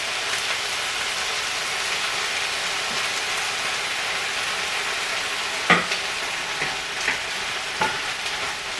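Sautéed vegetables for a healthy lunch wrap sizzling loudly and steadily in a pan as balsamic vinegar is added, a dense hiss throughout with a few sharp stirring clacks toward the end.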